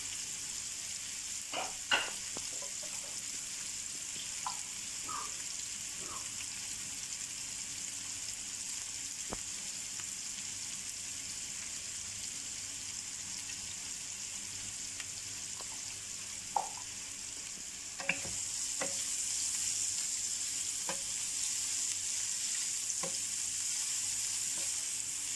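Bitter gourd (karela) slices frying in hot oil with turmeric for a minced-meat karela dish give a steady, soft sizzle throughout, broken by a few faint clicks and taps of a utensil.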